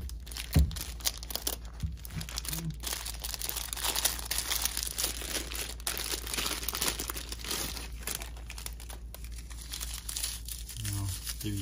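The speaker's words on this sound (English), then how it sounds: "Let's go ahead and get it out of the packaging." Crinkly plastic packaging being unwrapped from an Orion Edge-On Planetary 6mm telescope eyepiece; steady close rustling and crumpling throughout, with a few sharper tearing handling noises.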